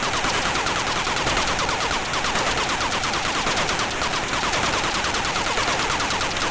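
Rapid, continuous gunfire crackles from battleship guns in the Atari ST game Thunderblade, a dense stream of loud machine-gun-like bursts running steadily through the whole stretch with no pauses or voices.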